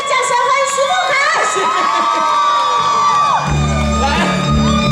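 A festival crowd at a temple Mazu culture festival cheers and shouts loudly as a singer is welcomed on stage, with whoops over a busy mix and a low amplified tone entering midway.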